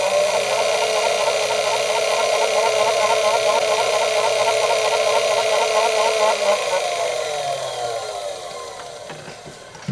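A small electric motor in a model railway track cleaning car runs with its body fitted, giving a steady close whirring hum that holds for most of the stretch and then slowly winds down near the end.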